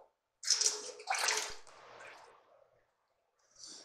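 Raw chicken wings are rinsed in a bowl of water, with bursts of splashing and squishy sloshing that come in two main rounds and a short final splash, close and fairly quiet with silent gaps between.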